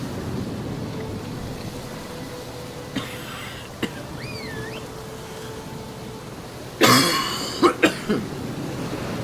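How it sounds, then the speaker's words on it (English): Several sharp, harsh coughs close to the microphone near the end, following a quieter cough or two, over steady wind and low background rumble. "So sorry about all the"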